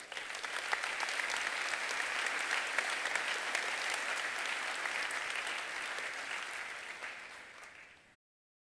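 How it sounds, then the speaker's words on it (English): Commencement audience at the Downingtown STEM Academy graduation gives sustained, even applause for the incoming speaker, a broad crowd of clapping at moderate distance that holds steady, tapers gradually and stops abruptly. "Please give a warm round of applause to Karen Mena."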